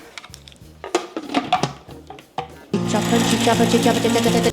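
A Thermomix TM7 food processor chops ingredients after a few clinks and handling noises, then starts a steady, loud motor whir with a rhythmic pulsing chop.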